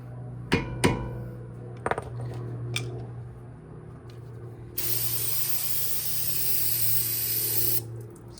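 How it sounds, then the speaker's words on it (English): A few sharp metallic clicks and knocks come first, then a can of brake cleaner sprays onto a car brake rotor on a 2007-2011 Honda CR-V in a loud, steady hiss lasting about three seconds before stopping abruptly. "Spray it down with some brake cleaner."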